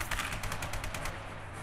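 Rapid machine gun fire bursts in a railway-themed video game, a fast crackling rattle of evenly spaced shots at moderate level, trailing off near the end with no talking.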